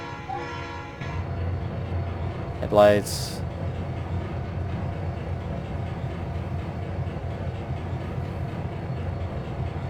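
A simulated diesel locomotive from Trainz 2022 drones steadily, with one short rising horn blast partway through. Someone speaks a single brief word over it.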